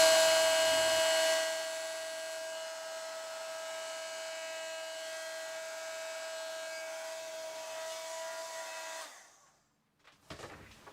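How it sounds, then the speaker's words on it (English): A heat tool for paper crafting, used on parchment flowers, whirs steadily like a hair dryer for about nine seconds, loud at first and then holding a constant hum before cutting off, followed by brief handling noise. "So I'm going to go away now and put the heat tool on to get it nice and hot."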